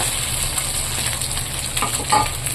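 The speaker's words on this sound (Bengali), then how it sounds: "চলুন মাছগুলো ভেজে নিই" Fish pieces fry in hot oil with a loud, continuous crackling sizzle close by, plus a few brief spatters and stirring sounds near the end.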